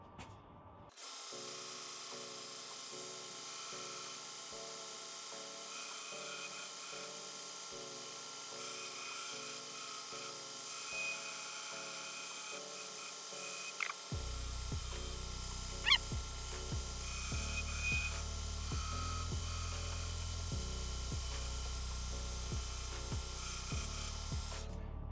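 A grinder sands a santoku kitchen knife handle, whining steadily for the whole stretch, its high-pitched motor tone shifting as material is worked against it, loud and close with no talking.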